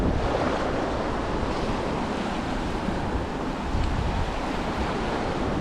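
Ocean waves wash onto a beach at Juan Dolio in a continuous, loud roar of surf, with gusty wind buffeting the microphone throughout.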